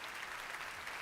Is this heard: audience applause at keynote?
yes